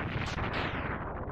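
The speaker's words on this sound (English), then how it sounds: "Really, you're gonna make the explosion take longer?" A continuous, loud burst of crackling explosion noise from Mega Man X3 rumbles for over a second without a break, with no voices over it.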